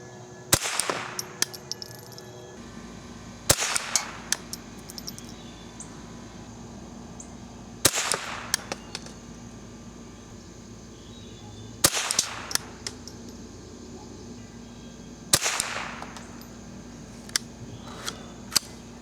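A vintage .22 Model 77 rifle fires Eley Benchrest Outlaw ammunition at a 50-yard target outdoors, giving five sharp, fairly quiet cracks spaced several seconds apart, with small clicks and handling noises between shots.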